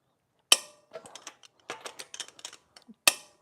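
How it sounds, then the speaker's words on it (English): A torque wrench ratchet tightens car wheel nuts, giving a loud sharp click at the start and end with a run of softer, irregular mechanical clicks and ratchet ticks between them, close up and with no talking. "Just doing a little torquing on the wheels. Wow, that ratchet gets them tight."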